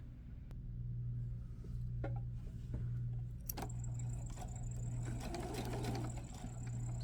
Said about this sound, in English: So I'll start stitching and then I'll back stitch